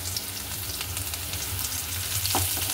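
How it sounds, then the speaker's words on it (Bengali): Chopped garlic frying with potatoes in a pan gives a dense, continuous sizzle with light stirring scrapes, close and steady, with no voices. "হালকা ভাজবো, খুব বেশি ভাজবো না, আলুর সাথে ভাজা হয়ে যাবে"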